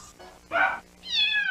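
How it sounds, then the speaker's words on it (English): A cartoon cat meows in a Nickelodeon CatDog bumper, a couple of short loud bright cries near the mic, the second one rising and drawn out, with no talking. "Meow!"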